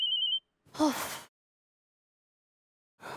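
A mobile phone rings in a brief, bright electronic burst at the start, followed by a short gasp, silence, and then another sound returning at the end.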